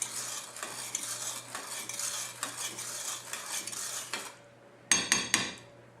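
Metal spoon stirring water and sugar in a pot for bubble tea, a steady scraping swirl for several seconds, then a pause and a few sharper clinks against the pot.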